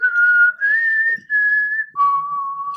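A person whistles the four-note mockingjay tune from The Hunger Games, clear and close, with each sustained note separated by brief breaths and the last note held lowest.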